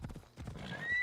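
A horse in Assassin's Creed Odyssey gives a short whinny with a few quick hoof clops, quiet and brief.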